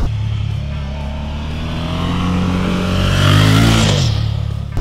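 A 2017 Suzuki V-Strom 650XT engine pulls smoothly in sixth gear at about 2100 rpm, a steady low drone that swells slightly as it picks up before easing off, heard close and loud.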